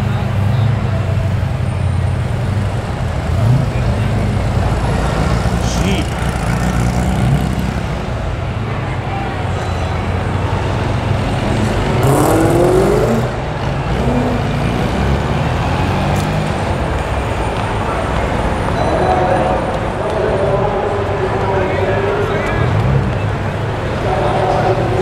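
Cars drive away from a car show at Homebush, Sydney, leaving a continuous roadway rumble with passing engine sounds near and far, while people talk over it throughout.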